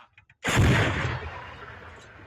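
A single heavy artillery gun fires near Avdiivka with a loud, close boom that rolls out and slowly fades over about two seconds.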